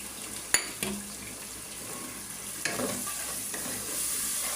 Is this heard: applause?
no